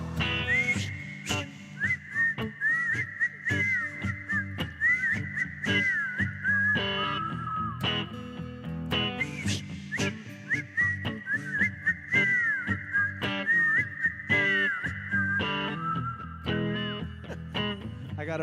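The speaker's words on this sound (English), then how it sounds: "Whistle." People whistle a sing-along melody to a live soul song in a showroom, the bright warbling tune running in two long phrases over the band's steady backing.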